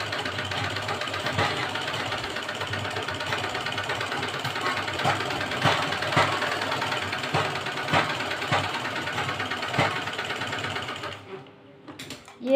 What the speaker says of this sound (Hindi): इस तरीके से उल्टी तरफ से रखना है और हमने ये इस तरीके से इसके ऊपर सिल लेना है।